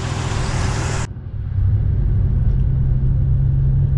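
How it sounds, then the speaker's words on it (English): Nissan 350Z being driven, a steady loud low engine and road rumble heard from inside the car, with a brief dip before settling into an even drone, no talking. "I'm gonna drive it to Home Depot so I could, you know,"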